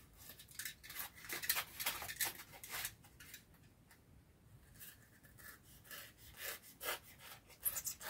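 Foam LARP knife sheath being hand-sanded with the knife left inside, giving close, rhythmic rasping strokes that rise and fall in uneven bursts with a brief quieter pause midway; no talking.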